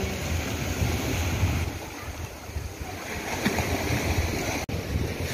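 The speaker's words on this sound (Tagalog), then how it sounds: "Lakas ng alon." Strong waves break at high tide on the beach at Lama Island, a constant loud roar of surf with wind buffeting the microphone and no pause throughout.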